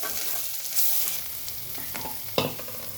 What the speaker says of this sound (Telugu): ఇప్పుడు ఒక 2 మినిట్స్ వరకు మంచిగా ఫ్రై కానివ్వండి